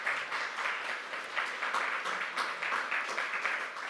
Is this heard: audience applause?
yes